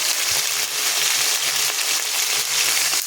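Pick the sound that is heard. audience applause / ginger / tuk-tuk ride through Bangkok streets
ginger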